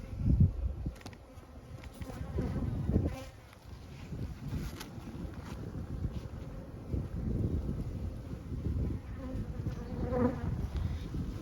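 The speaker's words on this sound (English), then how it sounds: "Just seeing this many bees surviving from a very, very weak hive, coming from an extraction" Honeybees from a weak, extracted colony buzz in an opened hive during a late winter inspection, a dense, continuous hum close to the microphone with some wind noise brushing across it and no talking.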